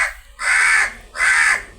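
A crow gives two loud, harsh caws close by, each about half a second long with a short pause between, and nothing else is heard.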